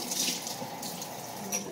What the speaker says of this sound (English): So I'm just going to run some cold water.